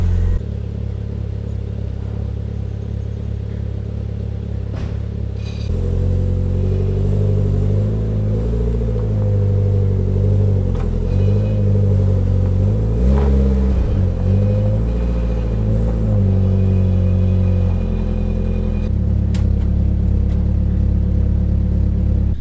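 A car engine idles steadily with a low, continuous rumble, close by, with slight shifts in tone partway through and no talking.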